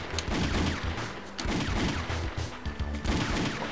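Repeated gunfire from the 2D action game Hell Yeah!, a fast stream of punchy shots and crashes packed together across the whole stretch, loud and busy with layered impacts and no voices.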